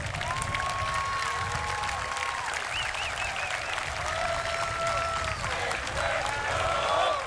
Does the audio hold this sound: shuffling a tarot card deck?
no